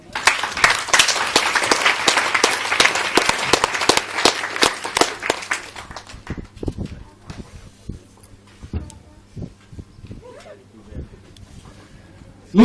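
A church congregation applauds and cheers to acclaim Jesus during a sermon on prayer, with dense loud clapping for about six seconds that thins into scattered claps and voices.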